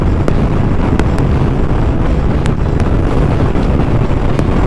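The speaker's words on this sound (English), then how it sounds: "Windy, gale force wind across here." Gale-force coastal wind buffeting a microphone during a motorcycle ride, a loud constant low roaring rumble with steady buffeting throughout, no voices.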